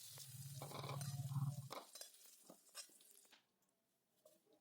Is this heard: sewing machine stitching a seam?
no